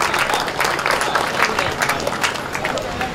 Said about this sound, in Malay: Kita berikan sekali lagi tepukan gemuruh kepada YB Timbalan Menteri